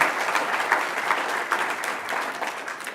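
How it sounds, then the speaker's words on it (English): Steady applause from a conference audience, many hands clapping evenly and continuously at moderate loudness with no voices over it. "So also a big applause to her."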